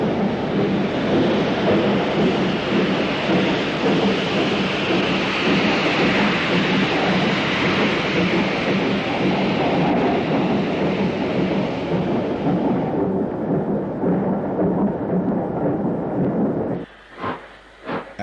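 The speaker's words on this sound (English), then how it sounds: "Leaking steam from everywhere it shouldn't is Patrick Croft's Caprotti Standard 5 73133 with a transfer of freight from Adswood sidings." A Caprotti Standard 5 steam locomotive, number 73133, leaks steam as it hauls a freight transfer from sidings, a loud, continuous hissing rumble that fades toward the end, followed by a few sharp knocks.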